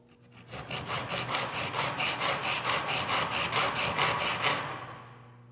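Wood pieces clamped in a jig for a cutting board are cut with a saw: a close, steady run of rasping back-and-forth strokes lasting several seconds before stopping, with no voices.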